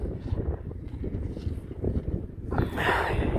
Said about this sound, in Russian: Ветер подул, и все.